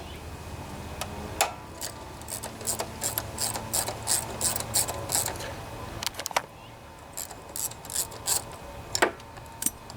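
A ratchet loosening bracket bolts near the carburetor of a Honda HRB 215 lawnmower with a plastic deck: repeated quick close clicking runs, pausing briefly midway and then resuming.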